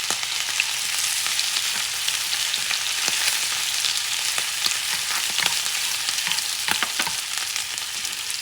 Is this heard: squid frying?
yes